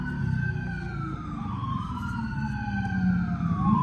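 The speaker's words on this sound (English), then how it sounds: "Sorry with the sirens" Emergency vehicle sirens wailing outdoors, rising and falling tones overlapping from more than one unit, steady and moderately loud with a low engine-like rumble beneath.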